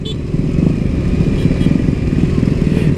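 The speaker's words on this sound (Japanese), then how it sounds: "すげえなバイクの数が" Loud, dense rumble of many motorcycle engines all around in Ho Chi Minh City traffic, continuous and close, with a voice briefly audible over the din.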